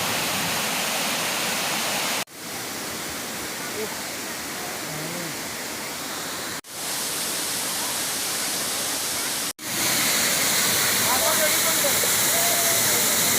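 Forest waterfall at Kuttalam in Kollam, a broad, continuous rush of falling water that stays loud and steady throughout, broken only by a few brief cuts, with no one talking over it.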